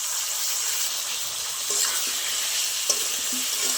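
Spices for a Bengali pumpkin and chickpea curry sizzle steadily in a pan with a splash of water, a bright continuous frying hiss broken by a few soft scrapes and clicks of stirring.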